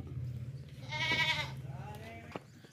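A dairy goat bleats once in a loud, wavering call, with quieter bleating from livestock close by over a steady low hum and a brief knock at the end.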